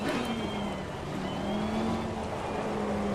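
A GT race car engine in Assetto Corsa Competizione holds a smooth, continuous drone, its pitch rising and falling slightly as it revs, steady and fairly loud with no voices over it.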